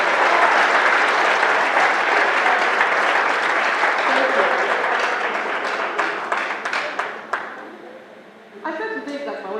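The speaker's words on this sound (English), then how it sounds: "Please clap for my mother" Audience applauds the speaker's mother at a public event in Lagos: sustained, loud clapping from a large crowd that gradually thins into scattered claps and then gives way to a voice.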